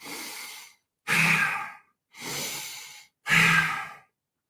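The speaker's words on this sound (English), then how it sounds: "inhale through the nose and then squeeze the belly to get used to using these muscles to squeeze the breath out of the lungs" Four forceful breaths during breath work, alternating softer inhales through the nose with sharper belly-driven exhales, each about a second long with brief silences between, close and clear.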